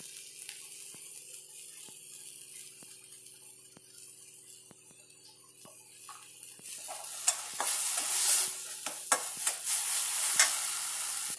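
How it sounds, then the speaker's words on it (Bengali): Spices fry in a pan with added salt and turmeric, a soft steady sizzle joined by louder scraping stirs and clinks in the second half, close and alone. "মশলাটা দিয়ে আমি ভালো করে একটু এটা ভেজে নেব, যাতে মশলার কাঁচা গন্ধটা চলে যায়।"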